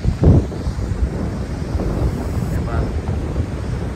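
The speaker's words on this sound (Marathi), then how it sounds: "मी फायनली धबधब्याजवळ आलो. तुम्ही आवाज ऐकू शकता" The Zunj waterfall roars as a loud, steady, broadband rush of water close by, with wind buffeting the microphone and heavy gusts near the start.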